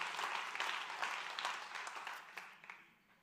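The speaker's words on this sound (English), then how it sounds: "can you give the Lord a big hand clap in the house?" A church congregation giving a big hand clap during a sermon, dense applause that starts full and gradually fades out over a few seconds.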